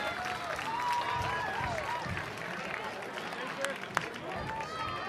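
A baseball crowd roars and cheers steadily after a two-out ground-rule double at a Cape Cod summer league game, a dense far wash of voices and scattered claps.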